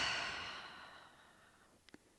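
A relaxed open-mouthed exhale during a yoga flow, one long soft breath that fades gradually, followed by two tiny clicks near the end.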